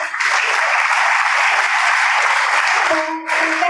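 A school audience at a girls' high school bursts into loud, dense applause for a motivational speaker. The thick clapping holds steady, eases briefly near the end and then picks up again as a voice cuts in.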